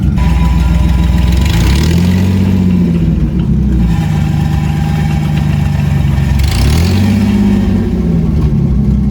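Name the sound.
$50 junkyard Ford Mustang engine idling and revving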